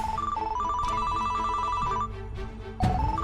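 Melodic mobile ringtone chiming loudly in a repeating tune of bright notes, playing alone with no talk over it and a brief louder bump near the end.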